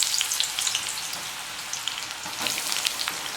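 Cut brinjal frying in hot oil, a dense, steady crackling sizzle heard close up with no talking.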